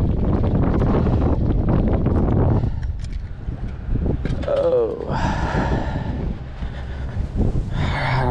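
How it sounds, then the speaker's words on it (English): Strong, gusty wind buffets the microphone outdoors by a dock while fishing on Kiawah Island, South Carolina, a loud continuous roar that eases partway through, with someone talking over it. "I lost my hat because the wind's blowing 100 miles an hour"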